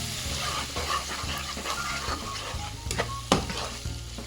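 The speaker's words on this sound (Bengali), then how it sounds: "মশলাটা কষানো হয়ে গেল" Tomato with chilli, coriander, turmeric and cumin powders frying in a pan for achari aubergine, a continuous sizzle under repeated scraping stirs, with a few sharper spoon knocks toward the end.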